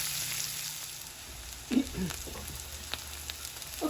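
Potatoes for a Spanish tortilla sizzle softly in a frying pan as they are stirred, with a few close scraping clinks over the low crackle of the hot oil.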